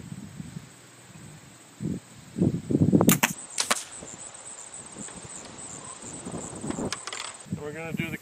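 Wind rustles outdoors in a 15 mph crosswind, then a bow releases with a sharp snap and an arrow with a Slick Trick broadhead strikes an orange plastic jug with a hollow thwack, followed by faint movement.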